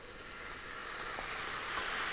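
Cold water splashed into a hot pan of fried onions sets off a loud, hissing sizzle that swells and keeps crackling close up, with a few faint stirring knocks.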